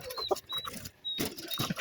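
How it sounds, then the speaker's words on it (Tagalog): A gamecock clucks in short bursts, close and fairly loud, with a few higher squawks mixed in amid outdoor background noise. "Malupit na manok to."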